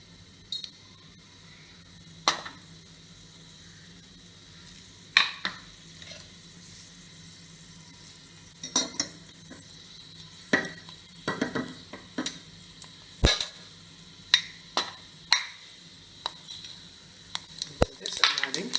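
Pepper kernels and cumin roast in about two spoons of ghee, a faint sizzle beneath sharp clicks and taps of a spoon against the pan, scattered irregularly and growing more frequent toward the end.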